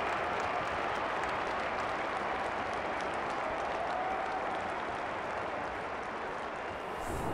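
Sustained applause from a crowd at an AFLW women's Australian football match, Hawthorn against GWS, after a goal, a steady broad roar holding level for several seconds.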